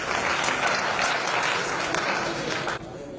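A mushaira audience applauds to welcome the poet Syed Rashid Hamidi, a dense and steady burst of clapping that stays loud throughout before easing slightly at the end.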